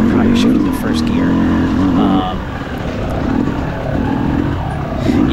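A Yamaha YZ250X dirt bike racing in a harescramble, its engine droning loudly with the pitch dropping and rising as it shifts down toward first gear, with steady wind rush throughout.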